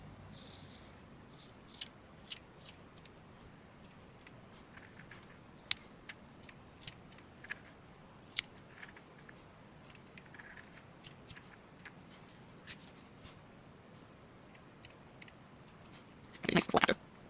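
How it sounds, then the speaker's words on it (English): Scissors cut paper for dollar store rainbow wall art, giving sharp scattered snips and clicks at irregular intervals over quiet room noise, with a louder rustle near the end. "And then take your scissors."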